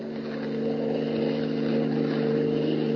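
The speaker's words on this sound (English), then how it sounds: "His keen hearing detects an approaching motor" A car motor approaches in a radio drama sound effect, a steady engine hum that builds gradually in loudness over a few seconds, with no voices.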